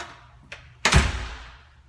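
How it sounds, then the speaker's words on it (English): A heavy apartment door is pushed open with a faint click followed by a louder thud and a scraping rumble that fades out; nearby and no speech. "heavy door, apparently"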